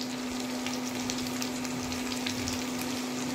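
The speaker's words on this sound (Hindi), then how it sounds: "अब इसको फ्राई करना है, 2 मिनट्स फ्राई करना है।" Onion, garlic and ginger fry in oil in a pan for chicken Manchurian, giving a steady, dense sizzle throughout with faint crackles and a constant background hum.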